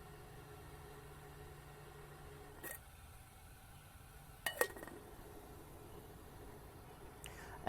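A metal lid from an ALOCS camping cook set pot is lifted over a rumbling, near-boiling pot, giving a brief clinking rattle midway against a low steady background hum, with a faint second clink near the end.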